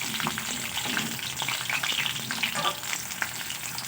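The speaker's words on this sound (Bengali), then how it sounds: "একটু হাতের সময় নিয়ে ভাজবো।" Cooked rice frying and being stirred in a pan for bhat bhaja: a steady close sizzle with spatula scraping and stirring throughout, and no talking.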